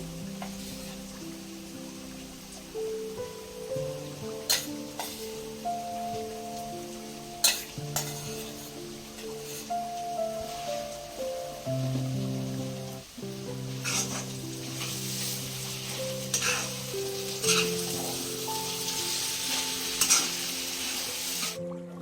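Ginger paste for ginger pickle sizzling steadily in a hot pan, with occasional stirring strokes and scrapes over the constant fry, no voices.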